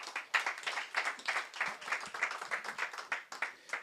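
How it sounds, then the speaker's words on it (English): Audience clapping for keynote speakers at a tech event, with uneven bursts of hand claps rising and falling in loudness at moderate distance. "Please, give them a round of applause."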